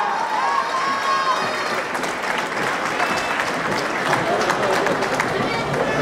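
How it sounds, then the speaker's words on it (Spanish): Steady applause from a carnival crowd at a youth carnival court presentation in Tlaltenco, loud and continuous throughout, with some cheering and background chatter mixed in. "vamos a despedirles con un fuerte aplauso"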